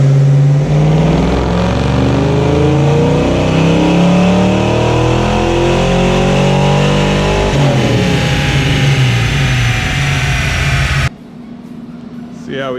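A Ford Mustang Fox Body with a GT40 intake revving hard on a dyno, a loud continuous engine roar climbing steadily in pitch for several seconds, then breaking off abruptly, dropping to a quiet idle at the end.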